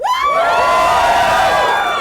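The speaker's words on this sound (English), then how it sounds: "We got an excited crowd here." An excited crowd cheers and whoops in a loud, continuous roar of many high voices that swells and holds for about two seconds, with no talk over it.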